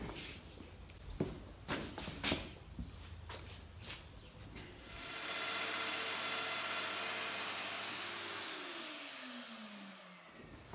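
A Domino joiner makes a plunge cut into wood on a shelf unit: after a few knocks, the motor spins up to a loud, steady whir for several seconds, then winds down, close by.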